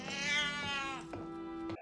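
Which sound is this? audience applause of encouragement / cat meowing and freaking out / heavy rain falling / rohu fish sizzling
cat meowing and freaking out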